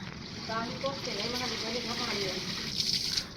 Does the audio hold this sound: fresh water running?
yes